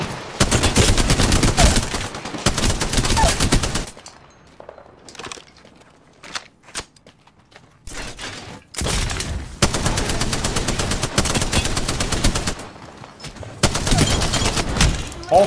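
Spitfire machine gun in Apex Legends firing in long sustained bursts, loud and close, broken by a quieter stretch of sparse shots and movement before heavy automatic fire resumes.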